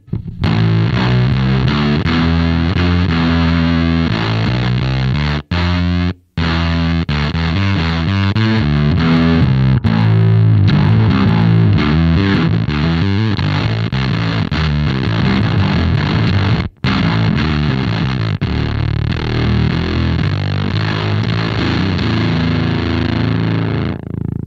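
Electric guitar through a Muff-type fuzz pedal with voltage and bias turned way down, loud and saturated chords that sputter and gate into abrupt dropouts, playing alone without talk.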